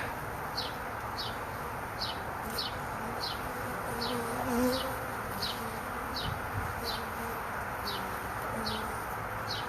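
A honeybee swarm being gently collected gives off a continuous dense buzz at close range, with a faint rhythmic chirping repeating steadily in the background and no voices.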